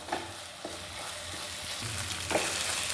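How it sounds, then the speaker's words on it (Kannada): Masala and onions frying in a pan for a Kerala-style crab masala curry, a steady close sizzle with a few soft stir scrapes and clinks, no talking. "ಈಗ ಫ್ಲೇಮ್ ಜಾಸ್ತಿ ಮಾಡಿ ನೋಡಿ, ಹೀಗೆ ಫ್ರೈ ಮಾಡ್ತಾ ಇರಿ"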